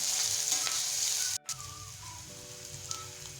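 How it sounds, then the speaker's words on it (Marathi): Onion and curry leaves frying in oil for tomato chutney, a steady close sizzle with a brief stir-scrape break midway and no talk. "आता आपण हे सर्व जिन्नस छान भाजून घेऊया"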